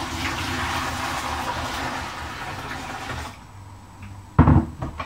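Warm water pours into a homebrew beer kit's extract to dilute it: several seconds of steady splashing and gushing, then a quieter pause ending in a sharp knock or clatter.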